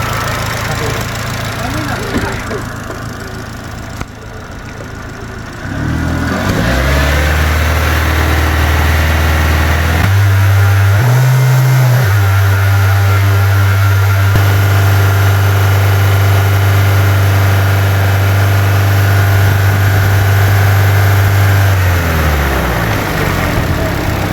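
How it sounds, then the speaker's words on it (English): Vauxhall Astra J car engine rising from a quiet start into a loud, steady hum with a brief rev partway through, then settling back to a constant idle, close and continuous. "I'm going to go and rev the car up, and the fan should cut on"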